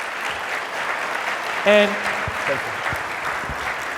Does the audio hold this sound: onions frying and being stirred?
no